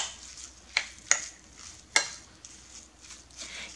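Sour cream is stirred into a cottage cheese filling for vanilla buns, with several scattered, sharp spoon scrapes and taps against a bowl over quiet room tone.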